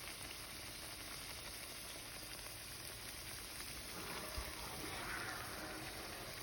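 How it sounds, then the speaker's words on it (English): A sope frying in hot oil, a faint, steady hiss and sizzle throughout, very quiet and continuous with a slight swell near the end. "Let's go ahead and put our sope into our hot oil."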